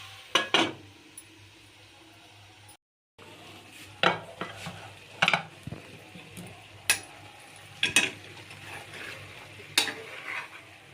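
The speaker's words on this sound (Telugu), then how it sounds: "ఇలా ఒక ఐదు నిమిషాలు ఆయిల్లో ఫ్రై కానివ్వాలి" Country chicken frying in oil in a pot, with a low sizzle under repeated stirring scrapes and sharp spoon clinks against the metal at uneven intervals, close by and with no talking.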